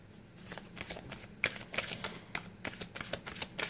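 A Radiant Rider-Waite tarot deck being shuffled, with a steady run of soft riffling card flutters and light slaps close by, no voices.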